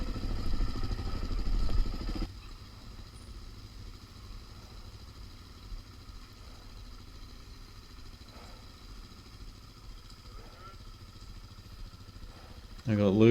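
DRZ400 motorcycle crossing a log bridge, the engine first loud and near for about two seconds, then dropping to a steady low idle-like hum with faint clatter before rising again at the end.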